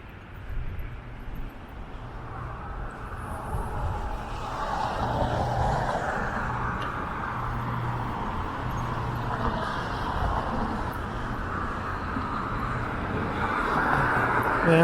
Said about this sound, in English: A lot of traffic heading into downtown from the 401 just pours down Avenue Road.